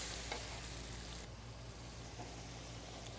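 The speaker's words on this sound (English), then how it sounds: "I'm going to add my white wine now and start my reduction." White wine hits a hot sauté pan of Maine lobster and sizzles with a steady, close hiss that eases slightly partway through as it starts to reduce.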